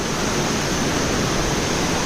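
Steady, broadband rushing of a waterfall and stream inside Arıtaş Suçıkan Cave, with a constant roar, close and loud, with no pauses or voices.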